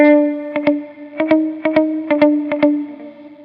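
Guitar through an Empty Head Effects modulation pedal with a very short delay at full separation, each picked note followed by a distinct doubled attack over a held, slightly distorted chord, loud and alone.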